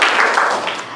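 Children in a school classroom clap together, a short, close burst of quick, dense applause.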